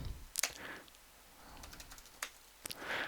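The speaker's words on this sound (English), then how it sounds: "and then you type owner" Several separate keystrokes click on a computer keyboard, close and fairly quiet, with irregular gaps between the taps.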